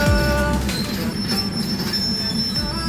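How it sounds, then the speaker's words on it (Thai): A local passenger train, service 422 on the Lam Chi to Ubon Ratchathani route, pulls into Ban Niam station with loud, sustained steel wheel squeal over a steady rumble of rolling rail cars. "นี่เป็นขบวนรถไฟท้องถิ่นนะคะ ขบวน 422 ค่ะ ลำชีอุบลราชธานีนะคะ จอดเทียบรอขบวน"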